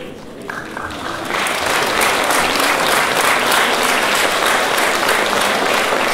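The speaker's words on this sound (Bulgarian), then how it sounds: "Специални аплодисменти за Виктор." An audience at a school celebration concert applauds a young child performer from a kindergarten, steady, dense clapping from a large crowd that swells after a brief opening and continues evenly.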